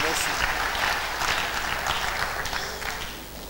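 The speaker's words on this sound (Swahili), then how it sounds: "Tumpikie tena makofi Yesu" A church congregation applauds in steady, dense clapping that carries through the whole stretch, loud at first and easing off slightly toward the end, with voices mixed into the crowd.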